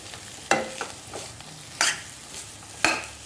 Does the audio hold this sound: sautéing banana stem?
yes